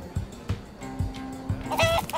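Chicken clucking in the Minecraft Story Mode video game: a run of short, close clucks over steady rhythmic thumps of game music, with no speech.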